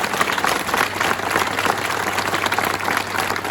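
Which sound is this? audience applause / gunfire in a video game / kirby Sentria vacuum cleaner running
audience applause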